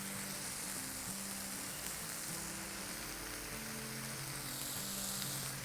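Breadfruit sautés in a pan with turmeric, giving off a faint, steady sizzle with no talk over it.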